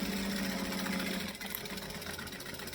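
A sewing machine running continuously with a steady mechanical hum, stitching forward and then reversing into a back stitch on a small fabric project, close and fairly loud with no talking.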